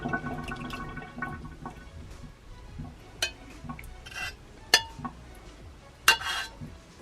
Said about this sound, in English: we're going to strain out the actual bobas that are in here